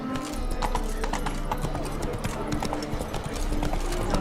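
Roach, a horse in The Witcher 3, clip-clops at a steady walking pace, the hoofbeats close and distinct over game ambience and a low background hum.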